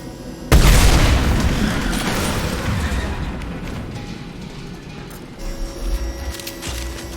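Tanks blown apart in the Mass Effect 2 video game: a sudden loud explosion boom followed by a long rumbling, debris-filled tail and mechanical clatter that slowly fades.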